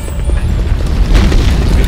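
A deep, rumbling explosion booms from the video game Kinect Rush: A Disney Pixar Adventure, loud and sustained for the whole clip, with no talk over it.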